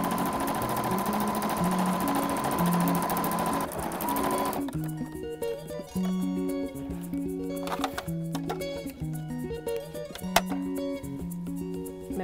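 Sewing machine stitching the side seams of a simple skirt with a 1.5 cm seam allowance, a steady close mechanical chatter of rapid needle strokes in short bursts with brief stops.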